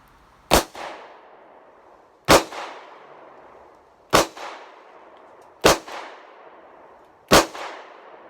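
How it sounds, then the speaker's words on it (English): Five sharp, loud gunshots from a Ruger LCR revolver fired double action with .38 rounds, spaced roughly evenly about two seconds apart, each crack followed by a short echoing tail. "Now I'm going to go to my Ruger LCR, and I've never shot this before"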